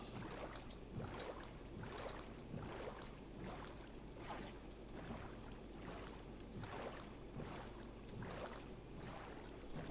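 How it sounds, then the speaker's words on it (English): A boat gliding across water in Minecraft gives a faint, steady rhythmic swish of paddling and splashing, repeating about once a second with no talk over it. "Tried to shoot a boat out from underneath me there."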